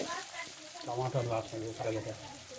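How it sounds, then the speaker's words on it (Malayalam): An egg fries in a pan with cumin, green chilli and onion, a continuous close sizzle and spatter running beneath a voice talking over it. "എഗ്ഗ് ഫ്രൈ ചെയ്ത് കഴിഞ്ഞാൽ ഞാൻ അതിലേക്ക് കുറച്ച് ജീരകം ഇട്ട്, ദെൻ കുറച്ച് പച്ചമുളക് ഇട്ട്, പിന്നെ ഉള്ളി ഇട്ട്,"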